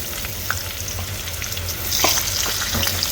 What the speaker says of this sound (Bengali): এখন পটলটা একটু ভেজে নিচ্ছি।